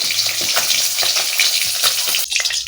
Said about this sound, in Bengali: ছটপট করে ফুটে ওঠে হ্যাঁ। তেজপাতা দিয়ে দিছি শুকনো লঙ্কা দিয়ে দিচ্ছি গোটা জিরে দিয়ে দিচ্ছি